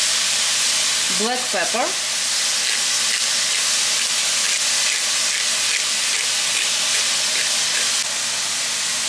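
Finely chopped beef steak, about a pound, sizzling and frying in a pan with a steady hiss throughout, while a voice briefly speaks near the start.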